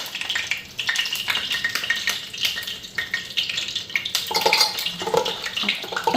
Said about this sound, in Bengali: কড়াইটা ধোয়াতে এরকম জলে তেলে এক হয়ে গেছে আর তেলগুলো ফুটতেছে